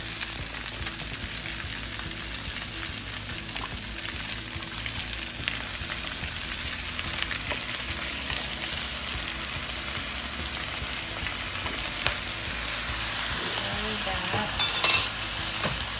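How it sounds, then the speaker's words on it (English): Chicken fried rice sizzles loudly and evenly in a pan as soy sauce goes in, a continuous close frying hiss with occasional faint stirring scrapes. "we're gonna go ahead and add the soy sauce"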